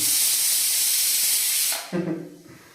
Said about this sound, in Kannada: ಕುಕ್ಕರ್ ಏನೋ ವಿಸಲ್ ಹೊಡಿತು